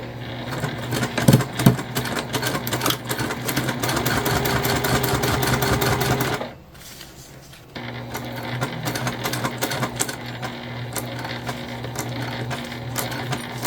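A sewing machine stitches down bag handles in fast, steady runs, pauses for a moment partway, then starts stitching again, close and alone.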